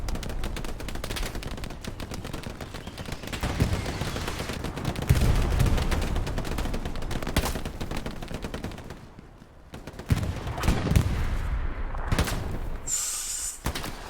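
Rapid gunfire in a shootout in a competitive video game: dense bursts of automatic shots, loud and close, with a short lull before more volleys and scattered single shots.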